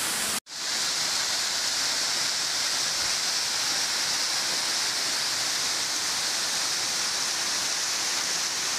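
Water from a natural spring spout at Bica do Pinga in São Gonçalo, Ipueiras, Ceará, pours in a steady, loud, broadband rush after a brief cut at the start, continuous and unbroken with no voices.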